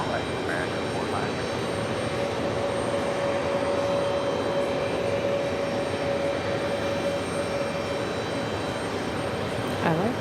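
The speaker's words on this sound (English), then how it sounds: "Neos Flight 787 came in on a 787-9 Dreamliner" Neos Boeing 787-9 Dreamliner jet airliner landing at New York JFK airport, with a steady loud engine roar and a sustained whine throughout and voices talking over it.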